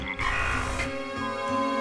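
A frog croaks loudly and close, a continuous resonant, buzzy call with strong harmonic tones and slight breaks in its pulsing rhythm, heard alone.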